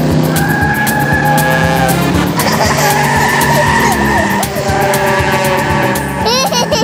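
Cartoon car tires skid and squeal in a Pocoyo children's animation, loud repeated screeches with engine revving, ending in a run of rising, whistling squeals.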